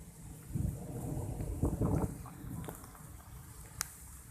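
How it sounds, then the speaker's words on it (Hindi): Heavy rain pours down in a village, a steady wash of noise with low rumbling swells that suggest thunder, plus a sharp brief crack near the end. "जोरदार बारिश है।"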